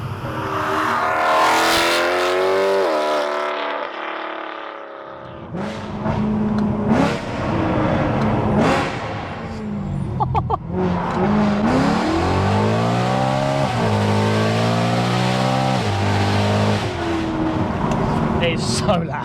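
A BMW E92 M3 engine revs loudly and repeatedly up and down, a harsh rising and falling howl close by, with someone talking over the noise at times.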